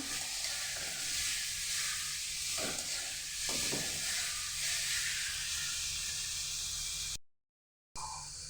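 Vegetables for fried rice, capsicum among them, hiss and sizzle steadily in a hot pan, with a few brief scraping stirs breaking through the broadband frying noise before a short silent gap near the end.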